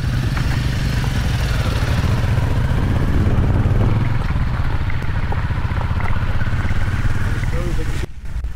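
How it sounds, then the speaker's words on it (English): A Royal Enfield Hunter 350 motorcycle is ridden on dirt trails, its engine a steady mid-pitched drone with clattering, dipping briefly near the end. Speech is mixed in. "I'm riding the Royal Enfield Hunter 350, a bike they say is designed for the streets, but today, surprisingly, it's holding its own well on the trails"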